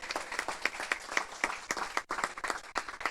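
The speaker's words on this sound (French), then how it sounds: "Vos applaudissements, s'il vous plaît." Audience applause at the International Strength Nights conference: a lively patter of many hands clapping close by, with uneven bursts and one brief dip, running for about three seconds.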